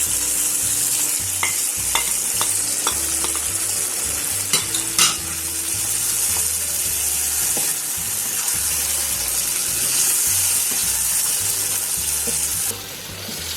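Chicken karahi with yogurt stir-fries in a wok, a steady loud sizzle broken by repeated scraping and clinking of the spoon against the pan, with no talking.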